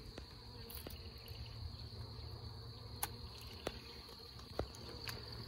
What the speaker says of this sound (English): That is a big, big swarm of bees.